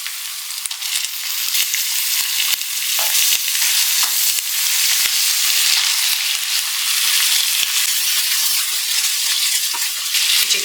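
Chicken pieces frying with ginger garlic paste in a pan for a palak chicken curry, a loud steady sizzle broken by sharp clicks and scrapes of stirring throughout.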